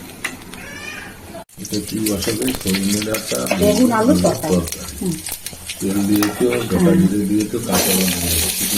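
Eggplant sizzles in hot oil with panch phoron in a home kitchen while someone talks over the frying, and a cat meows nearby; the crackle runs steadily beneath the voices.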